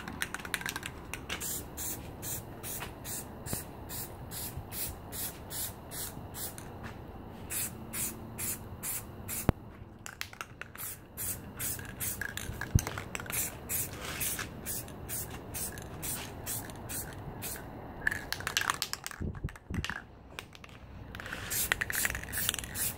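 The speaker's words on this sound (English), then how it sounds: "let's put some clear coat on it" Clear coat sprayed from a can onto a painted custom Fallout 4 game controller makes repeated short hissing bursts in a quick, even rhythm, broken by a few pauses and clicks of the nozzle.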